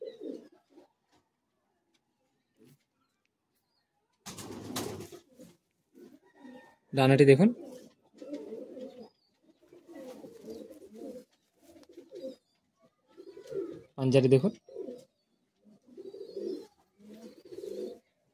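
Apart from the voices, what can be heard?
pigeons cooing in a loft, Madrasi pigeon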